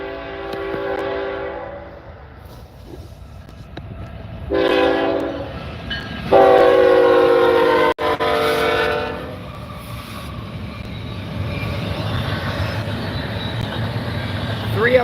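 A CSX freight train rolls past with several loud horn blasts, steady harmonic tones sounding in bursts over rumbling wheel noise and clickety-clack, with a voice briefly heard.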